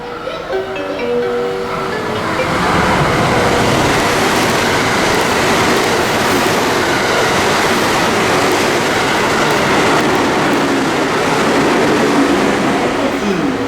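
A JR West Biwako Line train runs through a station with a loud, steady rumble and rattle of wheels on rails that builds after a quieter start and holds for the whole stretch.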